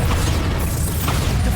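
A Bombarda spell explodes in Hogwarts Legacy, a loud, dense, roaring blast with heavy low rumble that fills the whole moment without a break.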